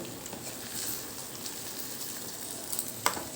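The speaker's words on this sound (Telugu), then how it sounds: "మసాలా కూడా చక్క నిదానంగా వేగుతుంది" Masala and brinjal with coconut fry gently in a pan over a low flame, giving a soft, continuous sizzle with faint crackles and one sharper pop near the end.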